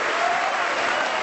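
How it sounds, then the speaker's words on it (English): A packed Crucible audience at the 2012 World Snooker Championship final gives a dense, continuous round of applause, loud and steady across the brief moment. "rapturous applause from this packed audience here at the Crucible"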